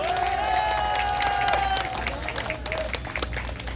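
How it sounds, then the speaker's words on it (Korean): A large audience applauds, a dense, continuous clatter of many hands that stays fairly loud throughout, with a sustained tone running under the opening seconds. "이제는 박수 한번 쳐야 됩니다."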